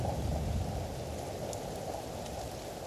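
Steady artificial rain produced by cloud seeding falls in a Chinese village, a dense continuous patter with no voices or pauses.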